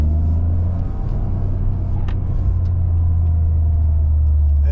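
A 2023 Toyota GR Corolla Core driving, a steady loud low engine and road rumble from inside the cabin, continuous and even throughout.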